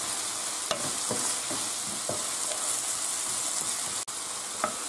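Spinach with raisins, pine nuts and apple fries in a pan while being stirred, a constant close sizzle broken by light scraping taps of the utensil, with no voices present.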